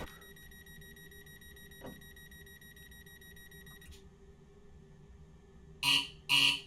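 A guard buzzer sounds in a train cab in Train Simulator Classic, two short loud buzzes near the end over a steady low cab hum and faint tones.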